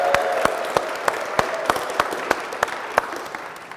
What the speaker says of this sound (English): how about one more round of applause for our honor scholars?